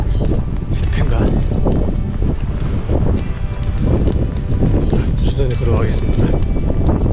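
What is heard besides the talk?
strong wind on an island coast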